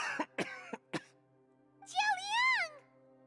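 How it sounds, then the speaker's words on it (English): A character in the Genshin Impact game coughs in a burst of short, sharp hacks, followed by a wavering vocal sound; the cough is fairly clear above a faint steady background hum. "He just coughed"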